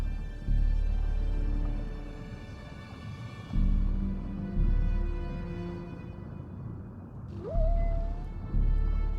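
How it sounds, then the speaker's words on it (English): Whale vocalizations in a low droning soundscape, with deep moaning calls that rise and fall in repeated swells and a brief upward-sliding whistle near the end, no talk. "Below him swim the mimic mother whale and her calf,"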